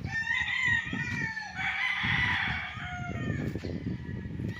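Roosters and chickens are housed in game farm coops, with overlapping crowing and clucking from several birds, close and fairly loud throughout.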